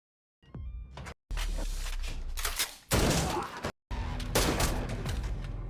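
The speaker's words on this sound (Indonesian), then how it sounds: "baik yang tak bisa bergerak ditembak berkali-kali oleh Kyung-pil" Repeated gunfire in a film scene where a man who cannot move is shot many times, loud bursts of shots separated by brief silences, with no talk.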